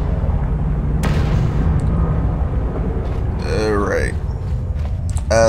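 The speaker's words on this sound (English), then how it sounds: "Take my grenade, bitch." A grenade going off in the video game KOTOR 2: a loud, dense blast with sustained rumbling, followed by a high warbling game effect near the end.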